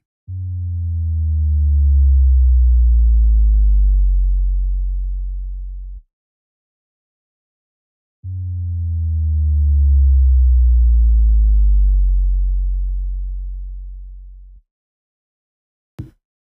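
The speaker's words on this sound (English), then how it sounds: "It's just a sine wave" Two long, deep sine tones hum alone, each swelling and gliding slightly downward before cutting off, separated by silence, with a brief click at the end.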